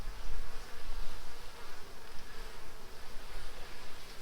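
Honey bees in a hive drone in a dense, steady buzz that holds evenly at close range throughout, with no voices over it.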